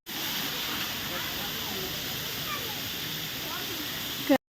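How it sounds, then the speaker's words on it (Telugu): A waterfall at Wonder Valley in Munnar, Kerala, heard close up as a steady, unbroken roar of rushing water that fills the whole clip at even loudness. "దగ్గర నుండి వాటర్ ఫాల్ సౌండ్ వింటే భలే ఉంటుంది కదా"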